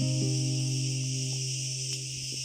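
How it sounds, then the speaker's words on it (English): Cicadas drone loudly and continuously beneath an old olive tree in Crete's Theriso Gorge, a dense steady high buzz filling the whole stretch with no talk over it. "I don't know if you can hear me with all the cicadas"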